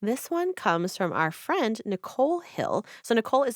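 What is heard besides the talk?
None of the usual background noises is heard.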